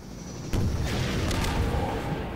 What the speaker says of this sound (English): I knocked it! Yeah! Awesome explosion.